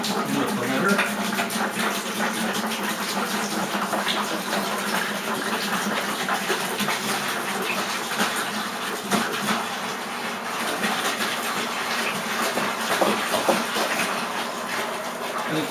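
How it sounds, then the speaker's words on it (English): A continuous rushing gush of water being poured from gallon jugs into a sanitized fermenter for mead, steady and close for the whole stretch. "I'm going to put 3 of these gallons in the fermenter."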